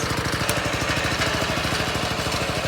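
A Kaan 250 S 7 HP petrol garden tiller engine runs steadily and loud nearby, its throttle held open so it revs with a constant rapid mechanical chug and no voices.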